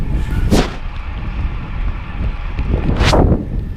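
Strong headwind roars and buffets the microphone continuously while cycling, with two sharp gusty whooshes surging past, no voices.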